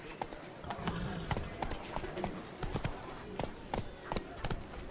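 Horse hooves galloping in The Witcher 3, quick rhythmic clip-clop beats running steadily and close, with a faint voice and game sounds beneath.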